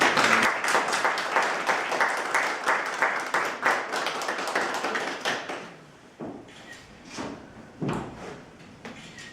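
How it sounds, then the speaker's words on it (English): An audience claps in a round of applause for Tom, honored for his hospitality to visitors. Dense, sharp claps fill the first six seconds, then thin out to a few scattered claps. "let's give a big round of applause"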